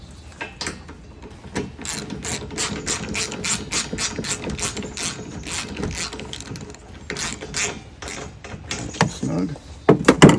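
A fastener on a Tusk bed extender for a Kawasaki KRX1000 is snugged down with a ratchet, a long run of quick, even clicks close by, ending in a few louder knocks.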